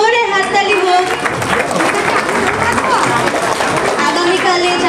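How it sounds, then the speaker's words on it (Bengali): An audience claps for a children's dance performance by Balvikas students at a Sri Sathya Sai Balvikas alumni meet. The applause is steady and fairly loud, running the full length with voices mixed in. "তাদের জন্য আরেকবার জোরে হাততালি হোক"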